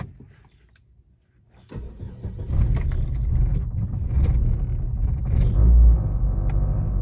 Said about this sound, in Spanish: el vehículo arrancó en el primer estrazo cosa que eso no lo estaba haciendo